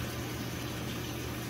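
A GE HE washing machine fills with water, giving a steady low hum and soft continuous rush of inflowing water, quiet and unbroken.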